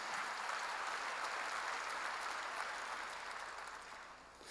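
Sustained applause from a church congregation during a worship service fills the space, a dense steady roar of many hands that holds evenly and then slowly thins toward the end.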